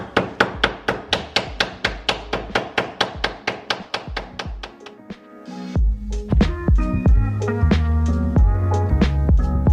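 Putty knife and hammer prying wooden boards off a kitchen wall: a steady run of sharp, close hammer taps, then denser clattering knocks, scrapes and creaks as the wood gives way.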